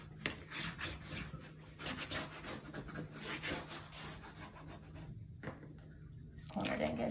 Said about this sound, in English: And use your bone folder.